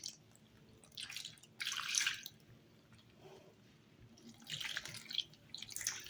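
Water is poured by the cupful onto flour and fine semolina in a bowl for msemen dough, giving several wet splashing, dripping bursts at close range with quiet pauses in between, and no talk.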